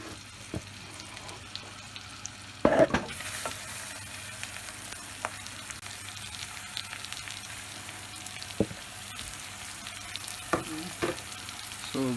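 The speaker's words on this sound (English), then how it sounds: "we're just trying to sear the meat, get a nice color to it, as well as to seal in all the juices in the meat." Mutton searing with curry leaves in a hot pan over a high flame: a steady, close sizzle with a few sharp metallic clinks and no talking.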